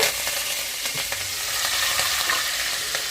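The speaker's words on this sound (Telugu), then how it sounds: "అదే ఆయిల్లో కొంచెం కరివేపాకు" Curry leaves crackle and sizzle in hot oil left over from frying eggs, a dense, continuous spitting hiss with scattered sharper pops, close and fairly loud with no voices.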